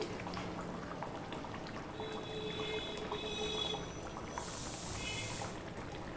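Pieces of pabda fish dropped into hot oil, giving a steady, soft crackling sizzle with faint pops that carries on throughout at low volume.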